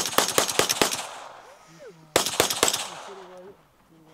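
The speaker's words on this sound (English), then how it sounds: "Hurry up before London starts shooting." Gunfire at a shooting range: two rapid bursts of sharp, loud shots about two seconds apart, each followed by ringing decay, with voices faintly underneath.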